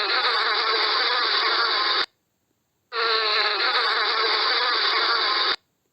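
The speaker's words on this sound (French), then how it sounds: "Abeille" A bee buzzes loudly and close in two steady bursts, each about two seconds long, separated by a short silence.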